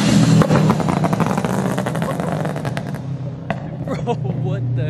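A supercharged Toyota GT86 with a UEL Subaru rumble exhaust revs and crackles with a rapid burst of backfire pops that fade after a few seconds, while people talk nearby.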